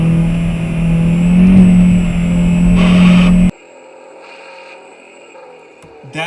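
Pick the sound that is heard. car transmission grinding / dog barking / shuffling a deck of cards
car transmission grinding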